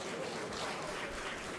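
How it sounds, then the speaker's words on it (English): A conference audience gives a round of applause, a dense and steady wash of clapping that lasts the whole short stretch and sounds fairly distant. "a round of applause"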